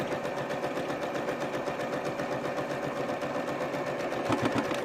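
Sewing machine stitching through fabric for a body pattern piece, running fast and steady with a dense continuous whir of rapid needle strokes, loud and close, no talking.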